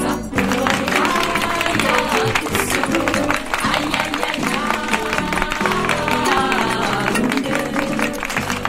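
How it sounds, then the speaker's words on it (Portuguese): Applause at a community broadcast event, sustained clapping and crowd noise with music and voices layered underneath, loud and dense for the whole stretch. "Aplausos, aplausos aí,"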